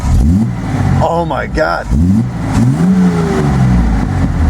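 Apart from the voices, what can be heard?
Datsun 240Z engine running and revving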